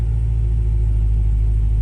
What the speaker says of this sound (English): when you shut your car off in my mode, you will have a louder startup for your cold starts